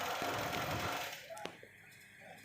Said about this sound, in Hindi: ये ऊपर से बिल्कुल बराबर रख के सिलाई लगा देंगे इंशाल्लाह।